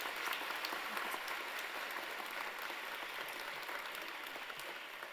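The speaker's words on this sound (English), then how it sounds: "Let's clap." An audience at an evening celebration claps for teaching award winners. The applause is faint and distant, a steady wash of many hands lasting about five seconds.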